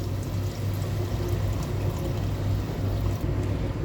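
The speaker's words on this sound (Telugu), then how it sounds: "చింతపండు పులిపి వేసుకుని తర్వాత నీళ్లు కూడా పోసుకున్నాం" Tamarind water is poured steadily into a pan of fish curry, a soft, even liquid rush with no voices.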